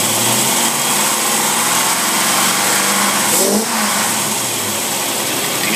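A Predator small engine runs steadily after a carburetor adjustment, a loud, close, high buzzing with a brief dip in speed partway through before holding even again.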